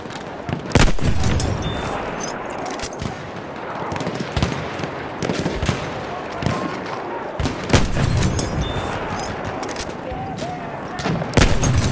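Machine gun fire in a First World War frontline video game at Verdun, with bursts of rapid crackling shots and sharp reports over a noisy battlefield rumble, loud and near, with voices shouting in the background.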